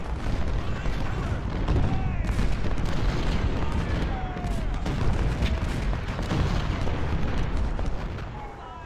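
Cannon artillery fire from the video game Ultimate General: Civil War, First Bull Run battle: dense, continuous rumbling booms and blasts overlapping one another, loud and sustained throughout with no pauses.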